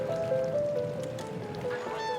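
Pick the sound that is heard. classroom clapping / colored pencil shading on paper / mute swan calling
mute swan calling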